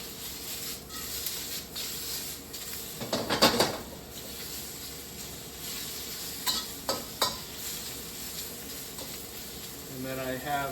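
Shrimp stir-frying in a wok, a steady sizzle broken by several louder bursts as the pieces are tossed and stirred.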